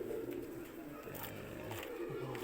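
Pigeons coo from a rooftop in Islamabad: low, soft, rolling calls repeat steadily over a constant background hiss, fairly close and moderately quiet, with no talking.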